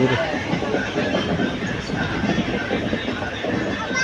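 A slow passenger train running along the coastal line from Nagapattinam to Karaikal at about nine kilometres an hour: a steady, continuous rolling rumble from inside the carriage, with a faint murmur of people's voices in the background.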